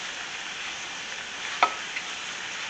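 Cheese sauce reheating in a pan, a steady soft sizzle and crackle with a couple of faint clicks from stirring.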